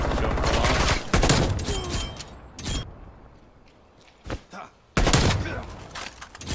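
Loud hipfire bursts from automatic weapons in Call of Duty: Cold War, with rapid rattling volleys near the start and again toward the end, separated by quieter stretches with occasional single shots and clicks.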